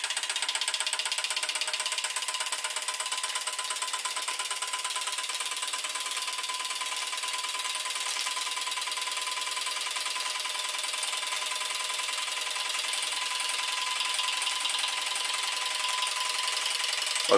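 A Doll 510 overtype model steam engine, fired by one burner, runs steadily with a fast, even mechanical chatter and a faint whine, light and tinny throughout with no voices.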